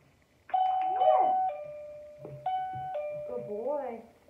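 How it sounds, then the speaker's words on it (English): A dog rings a bell on command, producing two sustained metallic chimes that ring out and decay, clear and close, while a person speaks over the ringing. "Ring the bell. Ring the bell."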